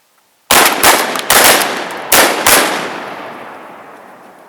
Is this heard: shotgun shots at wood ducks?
yes